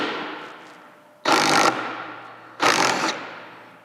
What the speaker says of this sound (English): So next thing I'm gonna do is remove this bolt